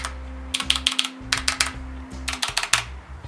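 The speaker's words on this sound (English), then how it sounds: "It's a very nice sounding keyboard." Fast typing on a Filco mechanical keyboard, a steady run of crisp clacky keystrokes in quick bursts with brief pauses, close and fairly loud over a low background hum.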